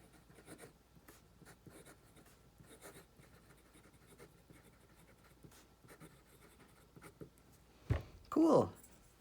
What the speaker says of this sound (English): writing over top of this part of this construction paper is not the best feeling